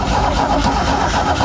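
1969 Spartan 155hp outboard boat motor, electric start, flooded, its starter cranking steadily without catching, a loud, continuous, close mechanical churn with no speech.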